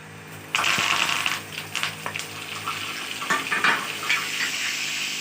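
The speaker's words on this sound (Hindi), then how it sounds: "अब हम इसमें शामिल करेंगे कड़ी पत्ता और लहसुन।" Curry leaves and garlic drop into hot oil with mustard and cumin seeds, a sudden loud sizzle that crackles and spatters, then settles into uneven popping and hissing.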